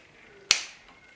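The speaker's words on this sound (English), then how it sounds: "So 1, 2, 3, and snap your fingers" A single sharp finger snap, crisp and close, in a quiet room with a short ringing decay.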